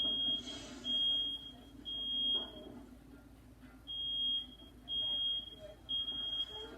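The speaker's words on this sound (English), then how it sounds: "the fire alarm finally starts sounding off" A high-pitched smoke alarm beeps in repeated bursts, fairly loud, over a muffled background rumble.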